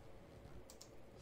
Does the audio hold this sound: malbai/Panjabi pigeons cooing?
no